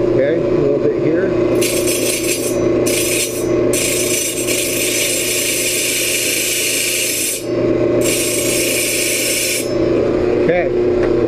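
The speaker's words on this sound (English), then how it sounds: "I'm going to go and give this thing a little bit of sharpening." The blade of a Dakota fleshing machine, used on whitetail deer capes, is sharpened. A loud, harsh grinding rasp comes in several bursts of a few seconds each over a steady machine hum, with some talk in the background.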